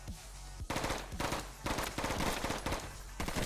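Rapid gunfire from the top-down tactical shooter Intravenous, loud bursts of close, repeated shots after a short quiet start, continuing in dense clusters for several seconds with no speech.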